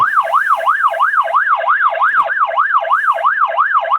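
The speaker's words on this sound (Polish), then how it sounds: "kiedy weźmiemy alarm błyskowy, to wyje i błyska" A flashing alarm on a solar security camera wails in a fast, regular up-and-down electronic sweep, loud and steady throughout, with no voices.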